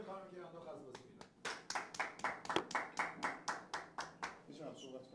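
Rhythmic hand clapping from a small group during a Mafia-style party game, about a dozen even claps rising over a couple of seconds, with voices talking underneath at the start.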